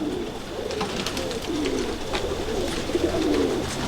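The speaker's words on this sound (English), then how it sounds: "We're gonna get an opportunity to see some of these birds in the air." Kit of pigeons released into the air outdoors, with soft repeated cooing calls over a steady background hiss and faint wing or movement noises, no talking.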